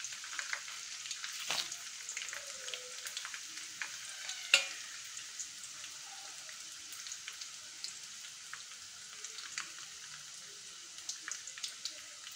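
Urad dal and dried red chillies fry in hot oil for ginger chutney, a soft crackling sizzle with scattered pops and a few sharp clinks of stirring, quiet and close with no talking.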